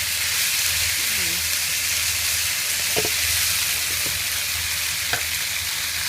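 Wide rice noodles for pad kee mao stir-fry with pounded chili and garlic over high heat in a wok, a loud, steady, unbroken sizzle with a few faint clinks of a utensil.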